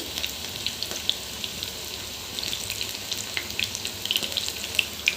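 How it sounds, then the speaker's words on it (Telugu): Black-eyed pea fritters (alasanda garelu) frying in hot oil, a steady soft sizzle with small crackling pops scattered throughout, close and alone with no talking. "ఇలా ఆయిల్లో వేసుకోవాలి"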